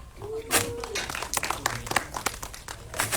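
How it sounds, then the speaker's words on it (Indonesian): Applause from the audience at a film premiere gala, scattered sharp claps and crowd noise mixed with an announcer's voice speaking through a loudspeaker, lively and moderately loud. "mari berikan tepuk tangan yang meriah untuk Sinyor Riza sebagai Eka"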